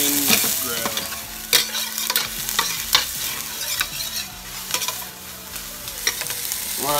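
Onions frying in a pan, stirred often so that loud sizzling is broken by scraping bursts from the utensil, close up and with no talking.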